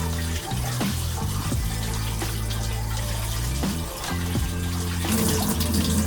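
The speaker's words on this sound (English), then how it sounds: "Take cold water, run it over them." Cold water runs steadily from a kitchen tap over potatoes and eggs in a bowl, a continuous close splashing rush with brief shifts as the food moves under the stream.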